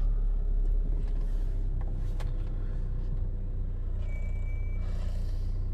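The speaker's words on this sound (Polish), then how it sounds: "Jazda w Warszawie, same korki." Saab 9-3 car crawling through Warsaw traffic jams, a continuous low engine and road rumble heard from inside, with faint passing traffic noise and a brief high whine partway through.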